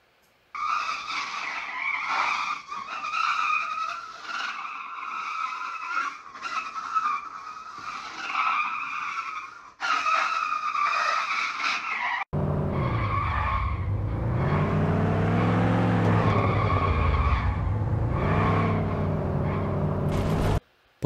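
Tire skid loops from an Unreal Engine car demo play as steady squealing screeches in repeated bursts, followed by a louder passage where the skid squeal rides over a wavering engine drone that rises and falls.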